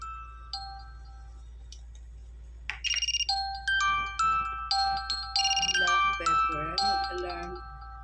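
A cellphone ringtone plays a bright repeating electronic melody in a home kitchen during pizza preparation, loud and close over a steady low hum.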